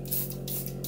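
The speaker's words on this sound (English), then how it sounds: "spray the bristles" Cleaner is sprayed onto makeup brush bristles over a Sigma Spa cleaning glove: three short, close pump-spray bursts in quick succession over a faint steady hum.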